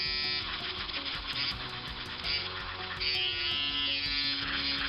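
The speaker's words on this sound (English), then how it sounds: "I have to transfer over onto my less powerful mini Dremel, as it's a weird sort of plastic" A small, less powerful mini Dremel rotary tool grinds on a part from a Matchbox Porsche 935 toy car made of an unusual plastic, giving a steady close high-pitched whine that shifts pitch as the load changes, with no talking.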